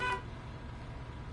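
Bus horn honking in the Bus Simulator video game on PS4, one short toot at the start fading into a low steady engine rumble.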